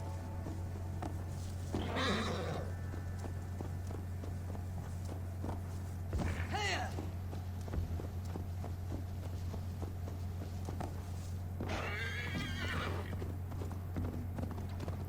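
Horse hooves clip-clop steadily through fields in the Assassin's Creed Valhalla video game, broken by three loud whinnies over a constant low hum of game ambience.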